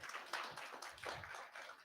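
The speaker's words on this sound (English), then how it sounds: "Now that deserves a round of applause." Audience applause after a product demo at a launch event: a steady wash of many hands clapping at moderate loudness throughout, with no voices over it.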